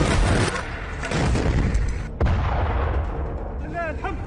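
Heavy booming blasts roll out loudly from an Israeli Merkava tank, with a second sharp explosion midway and a lingering rumble afterward.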